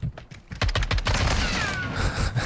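Rapid video game gunfire cracks out in a quick string of sharp shots, then blurs into a dense, loud rattle that carries on for about two seconds.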